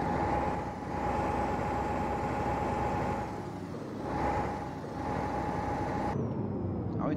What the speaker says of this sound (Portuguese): vamos ligar o caminhão